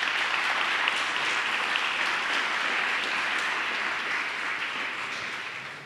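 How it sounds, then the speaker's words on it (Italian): Sustained audience applause at an award ceremony for a literary prize in Turin, dense continuous clapping at a fairly loud level that tapers slightly near the end. "ma possiamo fare comunque un applauso a Lorenzo."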